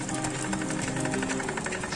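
An old stationary engine runs at an autumn engine rally in Tokushima with a fast, even mechanical clatter, steady and moderately close, with no voices.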